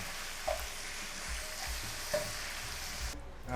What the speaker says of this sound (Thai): จากนั้นตามด้วยตัวซีอิ๊วดำหวานนะครับ ผัดนะครับ ทุกอย่างให้เข้ากัน